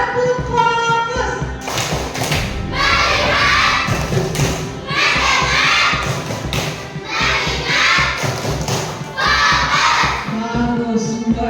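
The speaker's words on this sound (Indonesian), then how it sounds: "Tepuk 1, tepuk 2" Classroom children clapping in unison to a rhythmic counting chant, loud bursts of claps in regular groups, with a voice chanting along between them.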